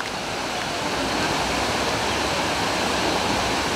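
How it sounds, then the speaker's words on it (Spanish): A river rushes steadily in the background, a dense, even roar of flowing water without breaks. "Con ese río hermoso de fondo"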